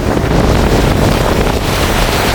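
Stormy sea at the coast during a cyclone, with loud continuous roaring surf and gusting wind buffeting the microphone, dense and unbroken, with no voices.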